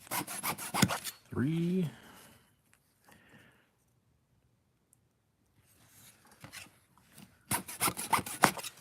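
Wood being sawn for a miniature Japanese shoji wall: quick, close, scratchy strokes in two bursts at the start and end, separated by a short spoken word and a quiet stretch.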